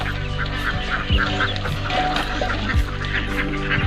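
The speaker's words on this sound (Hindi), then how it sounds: "छोटा छोटा बतख" Small and large ducks at a duck farm quacking and honking repeatedly nearby, overlapping calls over a busy outdoor background.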